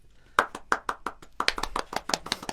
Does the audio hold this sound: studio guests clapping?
yes